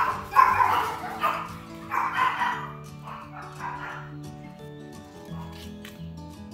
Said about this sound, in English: There go my dogs.